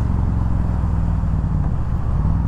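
A Yamaha V Star 1300 motorcycle engine drones in a loud, steady low rumble, held close and continuous at high revs without any talk.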